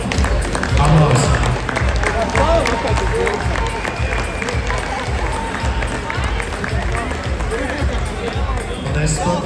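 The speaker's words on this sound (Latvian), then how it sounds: "Aplausi." Loud crowd applause at a moped racing season finale event, dense rapid clapping that fills the whole stretch with some crowd voices mixed in.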